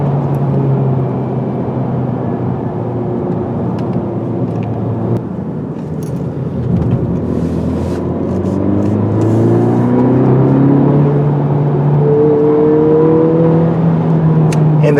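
A 2020 Honda Civic Si with a 6-speed manual accelerates on the road, its engine a steady, close, smooth hum that rises in pitch through the gears under road rumble, with no talking.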